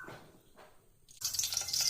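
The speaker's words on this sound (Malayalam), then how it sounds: "എണ്ണ ഒഴിക്കാം." Cooking oil goes into a pan: a faint dribble at first, then a louder, steady liquid hiss as the pour flows in, close and without speech.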